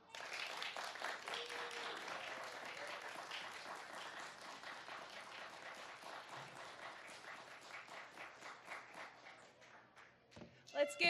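Sustained audience applause follows a poetry recitation at a Poetry Out Loud student award ceremony, a dense wash of clapping lasting about ten seconds before fading into a few scattered claps and shuffling.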